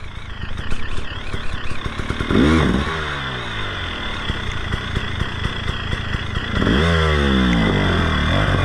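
A trail motorcycle engine idles with a steady clatter, then revs up loudly twice in rising surges, close by.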